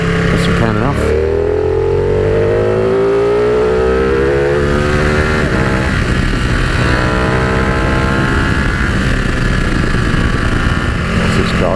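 A Ducati Panigale motorcycle engine under way, a loud steady drone with rising and falling revs through gear changes, close to the rider with constant wind rush throughout.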